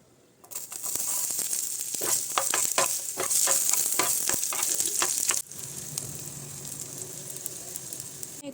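Chowmein sizzles loudly as it is stir-fried in oil with onion and Maggi masala, with crackling spatters and scraping stirs, then eases to a quieter simmer.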